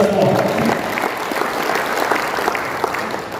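Audience clapping at a regional party inauguration ceremony in Papua, a burst of applause that is strongest at the start and then thins out, with a voice over it.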